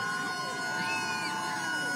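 A wailing siren rigged to a car battery with jumper cables sounds at the Dawsonville pool room, rising and falling steadily through dense background noise.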